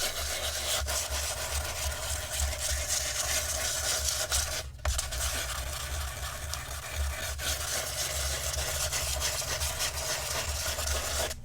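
Continuous close-up abrasive rubbing as a sanding disc works over embossed cardstock, a steady gritty sanding sound over a low motor hum, with a couple of brief pauses.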